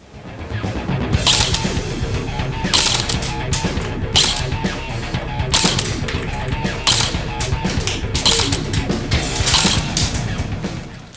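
ICS M4 airsoft gun firing 0.25-gram BBs through a chronograph, a loud close run of sharp repeated cracks and mechanical clacks in bursts over a steady motor whir.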